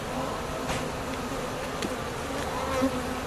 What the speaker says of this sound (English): Bees have been pretty gentle too, fortunately.